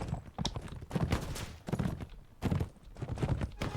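Horse hooves pound in a Mount & Blade With Fire and Sword battle, fast uneven thuds close by, mixed with clattering combat noise.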